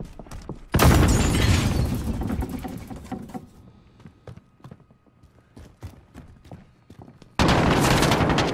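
Bursts of Call of Duty gunfire crackle loudly in a dense rapid volley, fade to scattered shots, then return in another loud burst at the end.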